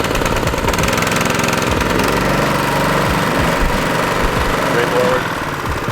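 A putting green mower's small engine runs steadily nearby with a constant throbbing drone and faint rattling vibration, no speech over it.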